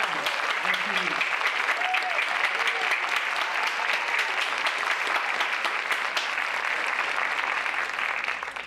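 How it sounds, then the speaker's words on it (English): Audience applause at the Laurel 2022 academic awards ceremony, a sustained, even wash of many hands clapping in a hall that continues for nearly nine seconds before tapering at the end. "please give Mrs. Miles a round of applause for all her years of service at Laurel"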